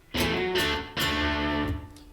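Two bright, sustained electric guitar chords through a Fender Tone Master Pro reverb effect ring out with a spacious reverb tail, each strike swelling and lingering, played alone at moderate volume.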